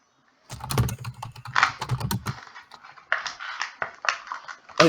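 Quick, close clattering of keys being typed on a computer keyboard, coming in irregular bursts with short pauses between runs.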